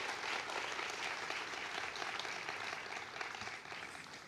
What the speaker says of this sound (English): I think we can give them a round of applause too